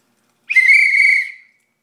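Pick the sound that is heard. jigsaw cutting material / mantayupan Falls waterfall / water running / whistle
whistle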